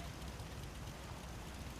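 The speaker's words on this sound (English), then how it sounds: "It needs to not be raining for that though." Steady rain falls in a Bethesda video game, a dense, even hiss of drops on surfaces with a low rumble underneath, continuous and fairly close for the whole stretch, with no voices.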